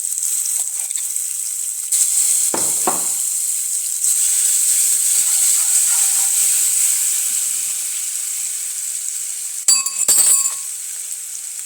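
Ginger-chili and garlic paste sizzles steadily in a hot pan for a sabji, a continuous bright hiss with a couple of sharp clinks of a utensil against the pan near the start and end.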